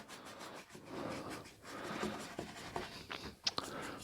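A loaded paintbrush drags and scrubs thick paint across a sunset painting, giving a continuous close rubbing, rasping texture with a few brief tapping accents toward the end, no voices.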